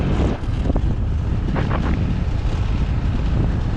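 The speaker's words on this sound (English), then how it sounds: "it's super windy." Strong wind buffets the microphone in a steady, loud roar with broad rumbling gusts, filling the whole stretch with no speech heard.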